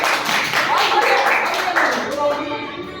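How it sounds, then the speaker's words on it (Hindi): Audience at a Girls' Day event in a girls' middle school in Arrah clapping together, brisk crowd applause with voices mixed in that tapers off toward the end. "ताली बजाइए"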